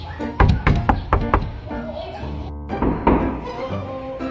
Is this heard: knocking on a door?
yes